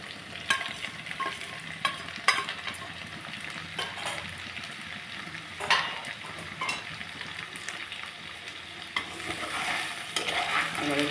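Ginger, salt, turmeric and chili powder going into a frying pan while cooking taro, giving a steady soft sizzle with scattered scraping and stirring clatters throughout, no voices.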